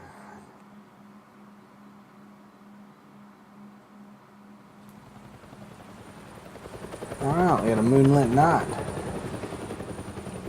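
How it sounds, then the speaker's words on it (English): Helicopter flying through rain in a Batman video game, heard as a low steady drone that swells into a loud, close, rhythmic rotor pass toward the end, with a voice speaking early on. "Helicopter in the rain."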